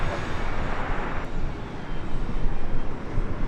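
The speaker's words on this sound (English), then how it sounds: "British Airways Flight 282. It's a 777-200ER heading back to London Heathrow." A British Airways Boeing 777-200ER airliner at Los Angeles airport gives off a steady, loud engine roar as a broadband rumble that holds for the whole few seconds, with no voices.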